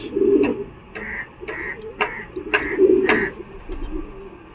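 A female Udasira Madras pigeon coos in low repeated murmurs amid market ambience, with sharp clicks and brief higher chirps from other birds nearby.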